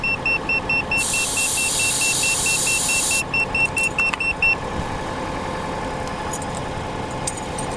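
An external TPMS tire pressure sensor kit in a car sounds a loud, sustained high-pitched alert for a punctured tire, lasting about two seconds, then cuts off, leaving faint cabin noise and scattered clicks.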